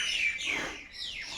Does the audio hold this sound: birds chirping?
yes